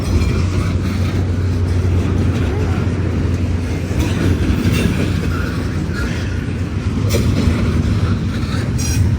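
A freight train with a BNSF locomotive in the middle rolls past steadily, a continuous loud rumble with rail clatter and occasional wheel screech, close by throughout.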